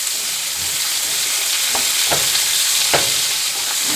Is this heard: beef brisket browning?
yes